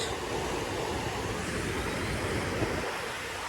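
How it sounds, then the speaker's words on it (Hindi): A hillside river flows with an even, full rushing noise that holds steady throughout, close by and unbroken, with no one talking. "और वैसे ही ये सुंदर नदी की आवाज़।"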